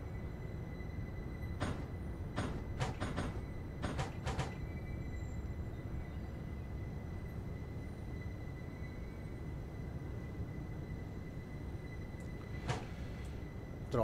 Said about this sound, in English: Right, in we come then to Frankfurt train station.